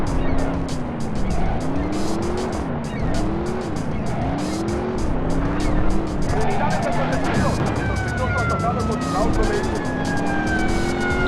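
A police siren wails repeatedly in loud game audio, rising and falling over engine roar and tire noise, with a second siren tone joining partway through.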